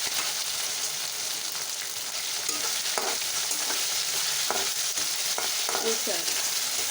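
Prawns fry in a pan with a continuous soft sizzle, while stirring clinks and scrapes come through at a moderate, even level without any voices.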